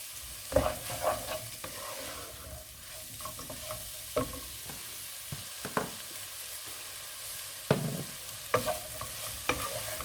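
Green onions frying in a pan over raised heat while cooking pilau: a steady sizzle broken by occasional scraping stirs of a utensil against the pan, close and alone.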